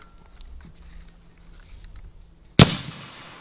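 An AEA Element Max air rifle fires a single sharp, loud crack after a couple of seconds of quiet outdoor ambience, and the report decays quickly.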